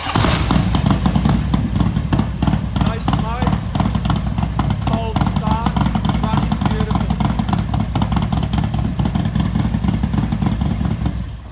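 A motorcycle engine runs loudly throughout, a rough, clattery idle with slight revving, while someone talks over it.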